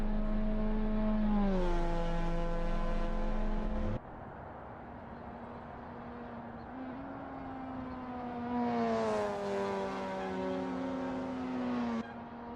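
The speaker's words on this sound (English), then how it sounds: "You can hear that heavy downshift going through that first corner to let the engine braking rotate the car" A Mazda MX5 race car at Road Atlanta howls close by, revving high before sharp shifts, with pitch-dropping downshifts and throttle blips as the engine brakes into a corner.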